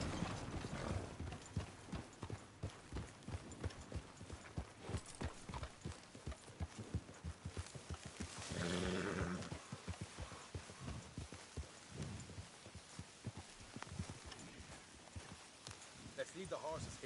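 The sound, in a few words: horses trotting in Red Dead Redemption 2 video game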